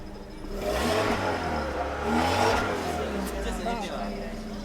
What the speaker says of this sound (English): This is when I started the engine